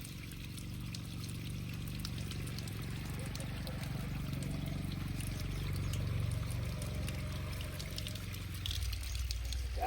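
Water sprayed from a hose onto the walls of a newly built house under construction for morning curing, a steady low hissing splash that runs continuously throughout and swells slightly near the end.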